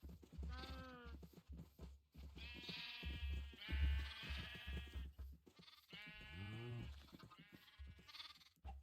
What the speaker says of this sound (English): We're gonna breed the sheep.